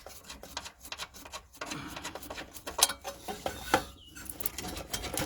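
A car battery tray, freshly unbolted, is worked loose and shifted out of its mount: irregular scraping, rubbing and light knocking at close range, with a couple of sharper clunks near the middle and no talking.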